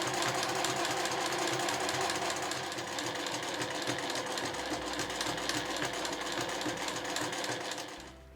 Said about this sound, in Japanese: これね縫ってこの端っこのところまで縫っていきます